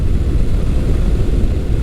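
Honda NC700X DCT adventure motorcycle with automatic dual-clutch transmission, its torquey engine droning steadily while riding at around 40, a low continuous rumble mixed with wind roar and no talking.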